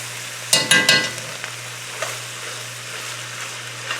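Onions frying in oil in a home kitchen pan, giving a steady low sizzle with a few sharp crackling bursts early on, close and fairly quiet.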